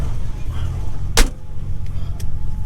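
A Porsche 935 race car engine, a low, heavy rumble idling steadily close by, broken once by a sharp metallic clunk and a fainter click shortly after.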